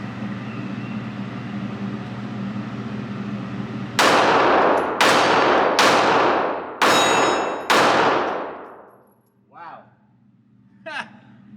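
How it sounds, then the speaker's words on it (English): A Glock 42 .380 pistol fires five sharp, loud shots in an even sequence outdoors, each crack trailing off quickly, followed by faint metallic clinks afterward. "So, let's do some shooting and see if it works."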